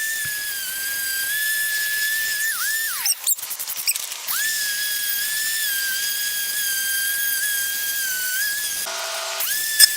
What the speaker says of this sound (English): I went ahead and took my sander and cleaned out the outside of the bricks where some of the mortar was still rubbed on